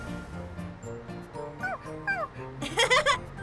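An animated puppy yips, barks and whimpers in short, rising cries. It starts soft and grows louder toward the end, over a faint musical background.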